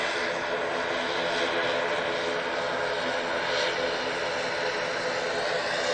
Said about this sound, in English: That A350 slowly being drowned out audio-wise by another ATR from Aer Lingus.